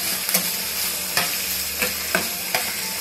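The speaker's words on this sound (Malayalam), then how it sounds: "എന്നാൽ ചേട്ടാ ഇതിന്നൊരു ബ്രൗൺ നിറമാകുന്നവരെ നമുക്ക് നല്ലോണം വഴറ്റിയെടുക്കാം" Finely sliced onions and lengthwise-split green chillies sauté in a pan with a little salt for karimeen pollichathu. A continuous close sizzle is punctuated by five distinct spatula scrapes and clicks at uneven intervals, with no one talking.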